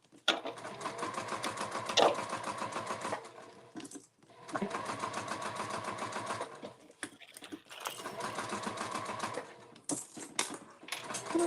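An industrial sewing machine stitching fabric for a bag, running in three steady bursts of rapid, even needle chatter, each lasting a few seconds and separated by short stops, fairly quiet and close.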